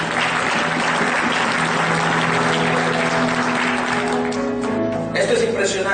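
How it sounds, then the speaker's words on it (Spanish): A church congregation applauds during a Spanish-language service, a loud, sustained wash of clapping filling the whole stretch, with a voice speaking over it. "Denle un aplauso al Señor por eso."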